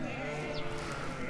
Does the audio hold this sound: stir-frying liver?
no